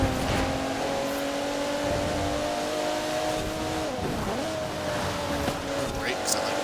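A race car in Forza Horizon 4 driving through rain with a steady engine drone, a rising and falling pitch as it shifts and corners, and someone talking over it.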